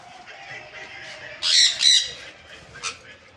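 A pair of loud, harsh bird squawks burst out close by in a bird shop selling sun conures and albino lovebirds, followed by a shorter third call, over a low murmur of other birds and background noise.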